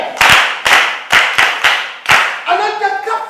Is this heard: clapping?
yes